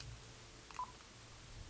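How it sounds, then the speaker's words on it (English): A cell phone being dialed gives a short, faint keypad tone over a low background hum, with no talking. "I'm going to dial my phone."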